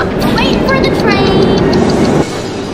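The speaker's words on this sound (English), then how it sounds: "Guys, we're getting on the train to head into New York City." A passenger train bound for New York City rumbles loudly and steadily up close, with high whining tones over the roar before the level drops suddenly near the end.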